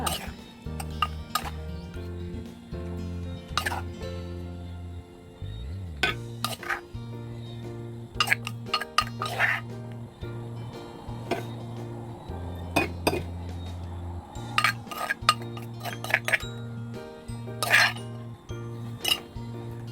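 Plates and metal cutlery clink and clatter as som tam is plated, with scattered sharp chinks and scrapes at close range over a steady low background hum.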